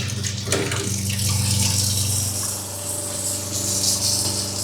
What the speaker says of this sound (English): Now we'll turn on hot water.